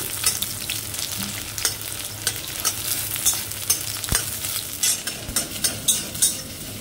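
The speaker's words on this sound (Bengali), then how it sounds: "কড়াইতে তেল গরম হয়ে গেছে, এবার দিয়ে দিচ্ছি পেঁয়াজ।" Onions sizzle and fry in hot oil in a wok for a mushroom dish, with a steady crackling hiss and repeated scraping stir strokes close by, no voices.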